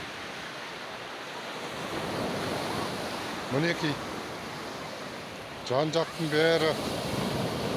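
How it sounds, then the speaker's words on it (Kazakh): Mediterranean waves wash onto the beach at Alanya, Turkey, in a broad, steady roar of surf. A voice speaks briefly over it now and then. "толқындар"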